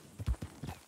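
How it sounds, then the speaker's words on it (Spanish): A Morgan horse in the video game Red Dead Redemption II clops along, with a few quiet, close hoofbeats in quick succession and a brief faint whinny-like tone near the end. "un segundo que tenemos un caballo justo enfrente"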